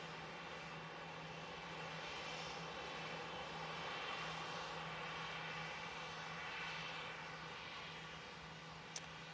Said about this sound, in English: And there is that Singapore Airlines A350.